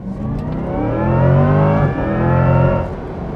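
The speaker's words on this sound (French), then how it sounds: "on entend un son électronique, un son électrique qui vient du moteur électrique à l'avant" A 2025 Chevrolet Corvette E-Ray accelerates hard in sport mode, its engine rising through the gears with a loud, climbing roar and a brief dip at a shift, mixed with an electric whine from the front motor.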